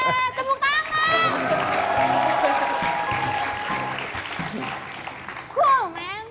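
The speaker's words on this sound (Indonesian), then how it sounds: "Tepuk tangan." Studio audience applause on an Indonesian TV talk show, a broad clapping wash that swells and holds for several seconds, with voices and laughter breaking through at the start and end.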